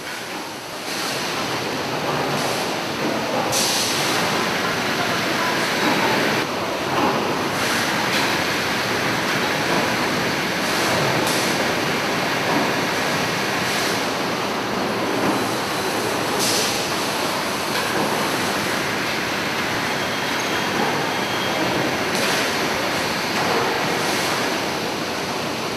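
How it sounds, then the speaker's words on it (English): An inner brush washer on a bottled water line scrubbing the insides of bottles: a loud, unbroken wash of spraying and churning machine noise with faint recurring clatter throughout. "This machine brushes the inside of bottles."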